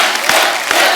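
A studio audience on the Kapil Sharma Show bursts into loud, dense applause and cheering for a singer. The crowd noise is steady and close throughout, with a few shouts rising above the clapping.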